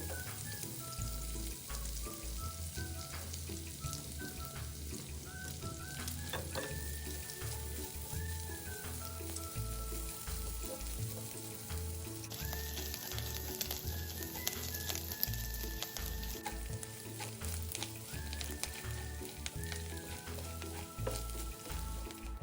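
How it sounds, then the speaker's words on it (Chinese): Soaked, chopped dried shrimp frying in fat rendered from pork belly in a hot wok, a steady continuous sizzle with stirring throughout and no voices. "倒入热货内，利用五花肉溢出的油分爆香"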